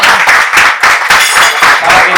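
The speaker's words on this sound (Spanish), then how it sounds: "un aplauso para ellos" Loud, close applause from an audience at a networking meeting, rhythmic, pulsing waves of clapping that carry on steadily throughout.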